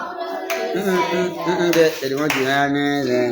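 A church congregation claps and cheers in praise, with a dense wash of hands and raised voices, loud and close, swelling slightly partway through.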